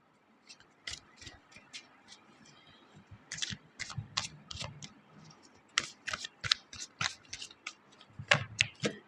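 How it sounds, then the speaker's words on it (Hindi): Tarot cards shuffled by hand in a reading, giving a steady run of crisp riffling clicks and soft card slaps, close and fairly quiet, with no talking. "मैं आपके लिए कार्ड शफल कर लेती हूँ."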